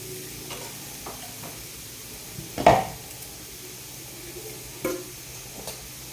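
Grated ridge gourd stirred and fried in a pan, a low steady sizzle with occasional scraping strokes, one louder clatter near the middle and a few soft knocks, close and alone with no talking.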